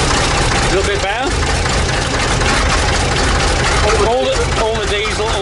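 Old diesel engine idling after sitting abandoned for decades, a loud steady rumble with knocking character filling the whole stretch, with voices talking over it.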